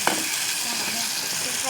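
Chopped onion and tomato sautéing in hot oil, a steady close sizzle with a quick clink of the spoon at the start, faint background hum beneath.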